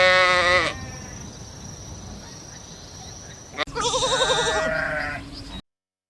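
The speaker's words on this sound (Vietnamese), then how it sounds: "Con dê." A goat bleats twice, loud and close: a wavering cry, a quiet pause, then a longer quavering bleat. No speech.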